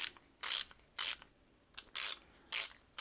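The ratchet of a VEVOR 1/2-inch drive click torque wrench clicks in five short, crisp bursts of rapid pawl ticks, close and clear in a quiet room.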